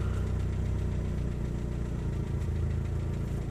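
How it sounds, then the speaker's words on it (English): A 1989 Geo Tracker engine idles near 900 RPM after a cold start, a steady low rumble with a faint rapid valve tapping running through it, close and continuous with no talk. "The valve tapping is pretty prominent now."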